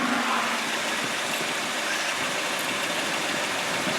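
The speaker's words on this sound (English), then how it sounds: "as you can hear, it's a good running car" A 2001 Volkswagen Passat engine idles steadily at close range, a continuous even hum with a broad airy hiss and no revving, alone with no talking.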